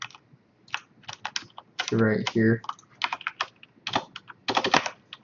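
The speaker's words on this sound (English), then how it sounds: "Someone was complaining about my keyboard noise" Quick, clattering computer keyboard typing in irregular bursts of keystrokes, close and fairly quiet, with someone briefly talking partway through.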